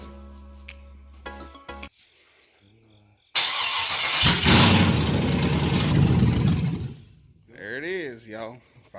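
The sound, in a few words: engine starting up on an engine stand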